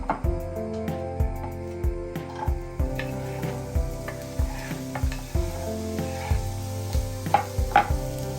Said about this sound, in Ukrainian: На сковорідочку наливаю трішки оливкової олії, а також додаю е, трішки вершкового масла.